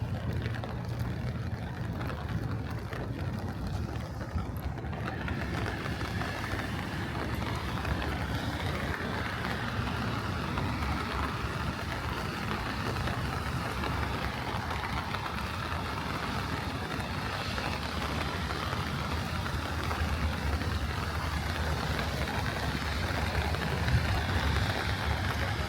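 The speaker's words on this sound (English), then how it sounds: "we're about to get into a really big rain shower, and you could kind of hear it on the umbrella" Steady, dense rain drumming on an umbrella close overhead on the South Brooklyn waterfront, New York City, a continuous broadband patter that holds at the same heavy level throughout with no talking.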